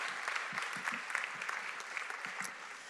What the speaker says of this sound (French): on peut quand même saluer et applaudir dès maintenant cette édition de ce matin